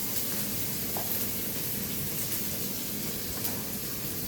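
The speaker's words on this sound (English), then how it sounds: "onion to fry because it will take some time to fry, and I'll fry it for" Onion frying in a pan for butter chicken: a soft, even sizzle and hiss runs steadily throughout, close up, with a couple of faint clicks and no voices.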